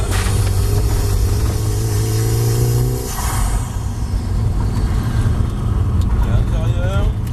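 Car engine revving up during a driving lesson, a steady hum rising and then giving way to a broader road roar, with an instructor talking throughout.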